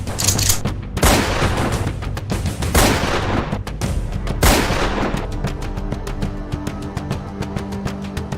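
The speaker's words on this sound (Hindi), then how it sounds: "दोनों ने शख्स को घेरा, जमीन पर गिराया और सिर पर दनादन 3 गोलियां दाग दी।" Gunfire from a daytime street attack in Jabalpur, Madhya Pradesh: several sharp, loud close bangs in quick succession over the first half, then a sustained harsh rumbling tail as the shots fade.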